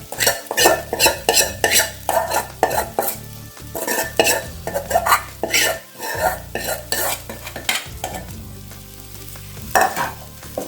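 Colocasia (taro) pieces being mixed in a pan, with repeated loud scraping and clattering of a spoon against the metal and a steady frying sizzle underneath, close up, no talking.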